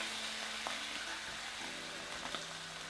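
Crispy trout fillets sizzle in a hot pan with a soft, even hiss, while a few faint clicks of a utensil mark the fillets being flipped.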